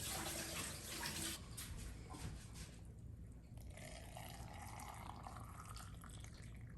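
Boiled salted water pours steadily into a jar of peppers for canning, a continuous close splashing fill that softens midway into a gentler trickle.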